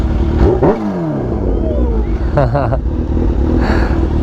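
Supercharged Kawasaki Ninja H2 motorcycle engine blipping and revving at an exotic car meet, short rising revs mixed with crowd chatter and nearby talk.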